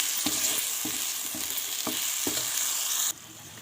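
Chopped tomatoes and salt are stirred in a frying pan, a steady hiss of frying under a series of scraping strokes at irregular intervals, before the sizzle abruptly quiets near the end.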